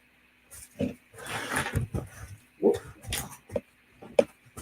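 A Great Dane lying in an office lets out a series of low, throaty grumbling rumbles and groans, close by and fairly soft, in short bursts.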